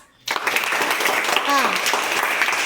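Children clap together in a classroom during a Telugu lesson, a sustained burst of group applause that starts abruptly and carries on steadily, with a brief voice rising over it midway.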